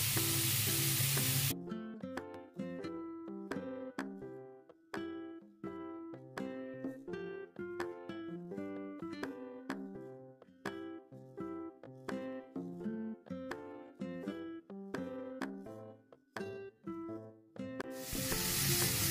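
Spices with chili powder fry in a pan, sending up a sizzle that comes in short, rhythmic bursts as the mix is stirred. Near and clear, with no talking.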